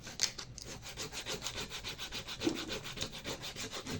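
Sandpaper rubbing back and forth across the bottom of a rhinestone slipper slide, a close, steady run of quick rhythmic scrubbing strokes with no talk.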